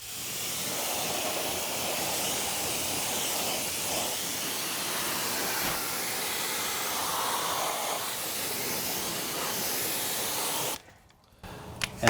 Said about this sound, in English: So we'll rinse this first.